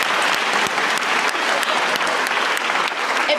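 Audience applause fills a graduation ceremony, steady dense clapping from a crowd sustained throughout with no voices on top.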